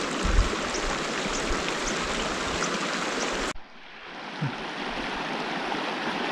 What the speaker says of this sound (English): This is an awesome creek for fly fishing.